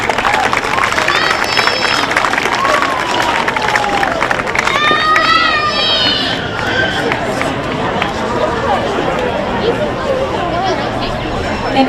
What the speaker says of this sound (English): Let's give all these young people a nice round of applause.